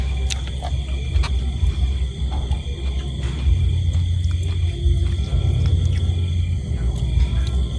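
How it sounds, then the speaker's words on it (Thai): Airplane taking off and flying past overhead, a loud, deep, continuous roaring rumble that swells and fades slightly while staying strong throughout. "เครื่องบินก็กำลังขึ้นเลยครับนี่เครื่องบินบินผ่าน นะครับ"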